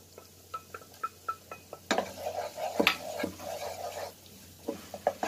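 Garlic going into a pan for spicy buttered shrimp, heard as soft sizzling with clinking of a utensil against the pan, a cluster of scraping and stirring sounds, and quiet rhythmic taps around it.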